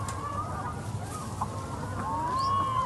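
Laying hens on a French farm cluck and cackle over a steady barn hum, several birds calling at once, close and continuous.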